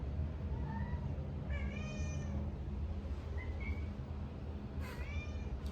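Several hungry house cats meow repeatedly and insistently, high rising cries scattered over a steady low rumble of background noise, with no talking.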